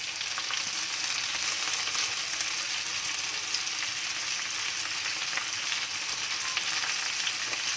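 Red pine mushrooms frying in a pan, a steady close sizzle and crackle of hot fat that carries on evenly from start to finish with no voices.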